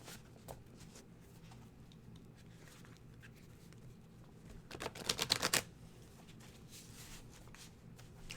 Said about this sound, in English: I'm shuffling.